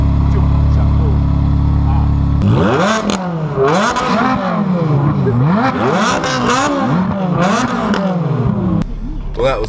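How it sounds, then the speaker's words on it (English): Ferrari 458 Speciale V8 revving hard and accelerating, loud and close, with repeated sweeping climbs and drops in pitch after a steady idle, the engine note ending in a settled drone. "so it's a 458 Special, so it's a pretty rare 458. Last of the V8s as well"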